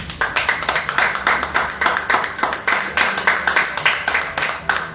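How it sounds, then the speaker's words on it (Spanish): A church congregation claps in unison as an offering of praise during a sermon. The clapping is loud and close, in a steady, fairly quick rhythm of sharp beats that runs for the whole stretch. "¿Cuánto le dan esa ofrenda de aplauso al Señor?"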